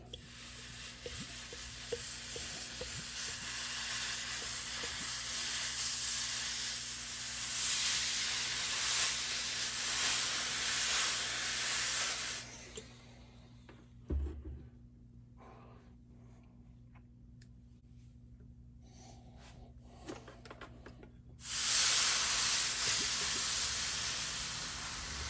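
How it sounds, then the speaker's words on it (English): A very hot clothes iron pressed on a wet rag over a guitar body hisses with steam in long, steady bursts, stopping for several seconds in the middle before starting again. "Got the iron set on really, really hot. I got it steaming also."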